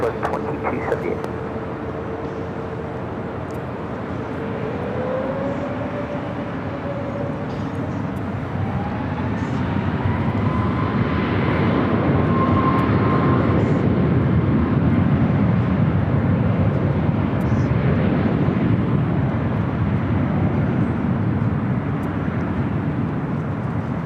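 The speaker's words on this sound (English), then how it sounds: "We're looking at Southwest Airlines 2278 taking off to Dallas Love Field on the MAX 8." A Southwest Airlines Boeing 737 MAX 8 taking off for Dallas Love Field from runway 24 left, a broad steady engine roar with a rising whine that swells and holds loud, while a voice talks over it.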